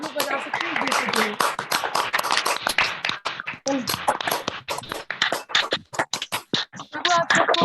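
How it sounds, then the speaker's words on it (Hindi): Participants in an online training graduation clap over open microphones, giving scattered, uneven claps and taps mixed with overlapping voices and chatter. "जोरदार तालियां सब लोग बजा सकते हैं।"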